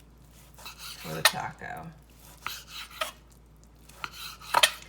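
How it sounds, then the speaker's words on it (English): A knife slicing sous vide flank steak for tacos, a few separate cutting strokes and sharp knocks on a board, with someone speaking briefly between the cuts. "So now we're just cutting some slices"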